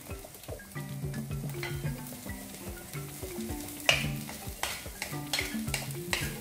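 Shallots fry in generous coconut oil for a sour, spicy shallot theeyal, with a soft continuous sizzle under busy stirring clatter and light utensil taps against the pan.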